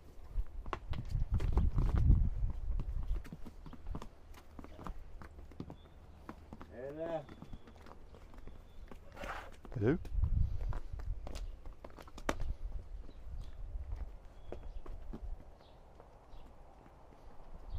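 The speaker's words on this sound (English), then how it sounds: "we come across this guy leading his donkeys around" Donkeys led along a craggy path near Lardos Beach, Lindos, Rhodes, their hooves clip-clopping in uneven steps close by, with a brief greeting spoken and some background talk.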